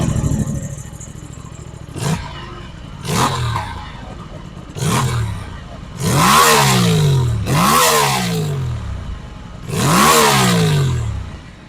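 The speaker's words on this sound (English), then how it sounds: "Now let's listen to the exhaust note of this 457cc parallel twin engine." Aprilia RS 457 with a 457cc parallel twin, revved repeatedly while parked: six sharp throttle blips that climb and fall back, the later ones longer and louder, close and alone over a steady idle.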